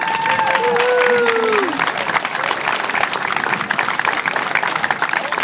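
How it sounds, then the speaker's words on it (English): Audience applause at an outdoor racquetball championship award ceremony, loud, dense clapping filling the whole stretch without letup, with a few whistle-like tones rising over the crowd early on. "So let's hear it for Greg Sheffield"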